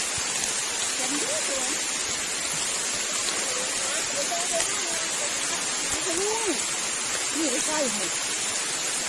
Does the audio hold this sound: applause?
no